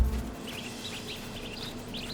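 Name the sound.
white-throated bee-eater bird calling in the video game Marvel's Spider-Man 2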